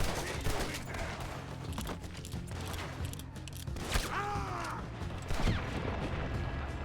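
Rapid gunfire erupts in the Western shooter Red Dead Redemption 2, dense overlapping shots and cracks running throughout, with mechanical creaks and a whining tone mid-way over a steady rumble.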